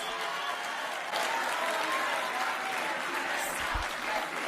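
A crowd claps in sustained applause, a dense, steady patter filling the room for several seconds.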